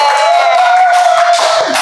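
Loud, dense applause mixed with cheering from a live audience on a talk-show set, filling the whole short burst steadily without letting up.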